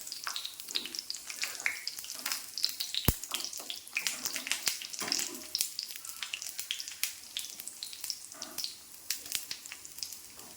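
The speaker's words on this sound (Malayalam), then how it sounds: "എല്ലാ ഭാഗവും എണ്ണയ്ക്കകത്ത് ടച്ച് ചെയ്ത് ഒന്ന് മുക്കാൻ വേണ്ടി നമ്മൾ കണ്ടിന്യൂസ് ആയിട്ട് തുടർച്ചയായിട്ട് ഇങ്ങനെ ഇളക്കിക്കൊണ്ടേ ഇരിക്കണം" Pieces of curry lemon (vadukapuli) crackle and sizzle in hot oil while being stirred continuously, giving dense, irregular spattering pops close by.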